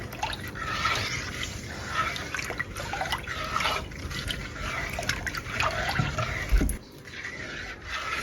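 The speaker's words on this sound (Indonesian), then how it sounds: "tambahkan 700 ml air. Aduk dulu sampai larut." Pudding mixture being stirred in 700 ml of water until it dissolves, giving a steady run of liquid swishing and sloshing at close range with small splashy drips, continuous throughout and no talking.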